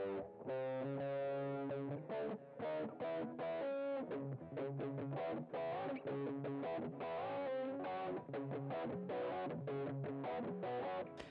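A loud, fuzzy distorted electric guitar plays a choppy riff of short, chugging chords with brief gaps, continuing steadily with no voices.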